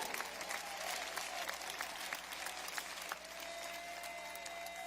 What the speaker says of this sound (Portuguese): Pode bater palmas, pode glorificar, pode exaltar o nome do Senhor.